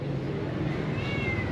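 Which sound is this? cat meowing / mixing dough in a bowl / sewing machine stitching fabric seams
cat meowing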